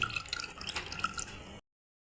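Liquid almond thandai trickles and drips through a strainer, a soft, close patter of small drips and splashes that runs for under two seconds and then stops abruptly into silence.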